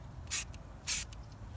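Two short, sharp bursts of spray paint hiss onto furniture, each lasting about a fifth of a second, close by and alone against a quiet room.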